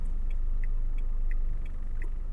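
A car being driven at night, heard from inside the cabin as a steady low road and engine rumble with a soft, regular ticking like a turn signal clicking throughout.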